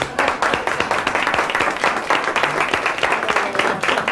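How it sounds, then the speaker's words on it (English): Audience applause at a community event honoring fathers and mentors, a dense steady wash of many hands clapping throughout, fairly loud and close, with a brief voice or two mixed in. "round of applause."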